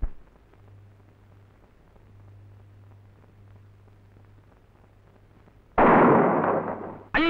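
Firecrackers going off on a rooftop at night: a faint steady hum, then one sudden loud crackling burst that lingers, and a second sharp bang at the very end.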